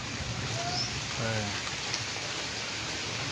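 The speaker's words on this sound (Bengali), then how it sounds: "বৃষ্টি ঝড়ো হাওয়া দমকা হাওয়া" Steady rain with gusty storm wind during a nor'wester (Kalbaishakhi) storm at Char Monai, Barishal: a dense, even hiss of rainfall close by, with faint voices briefly underneath.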